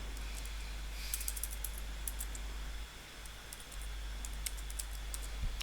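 Sparse, light keystrokes on a computer keyboard tap out in small clusters, faint against a steady background hiss and low hum, with no voices.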